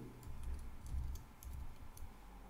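Keys tapped on a computer keyboard to enter a .NET command, a few quick soft clicks in short bursts over a low steady background hum.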